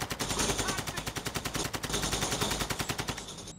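Rapid bursts of automatic gunfire rattle in a video game, a fast even stream of shots over several seconds, fairly quiet overall with no speech.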